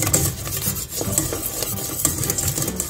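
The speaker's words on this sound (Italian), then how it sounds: "Mescoliamo bene" A spoon stirs pastry cream as it thickens in a pot on the stove, a steady scraping and rasping that runs loud and close for the whole stretch with no voices.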